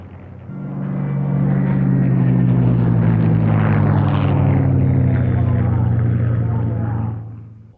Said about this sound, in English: a version of the 109 powered by the British Rolls-Royce Merlin engine